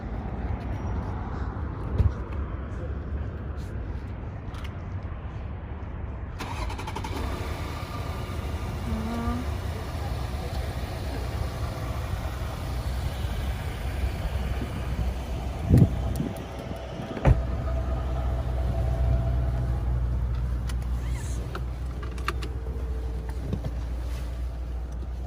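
A Volkswagen Touareg with a 3.0-litre turbocharged gasoline V6 starts with its bonnet open, then settles into a steady, low idle that runs on for about twenty seconds.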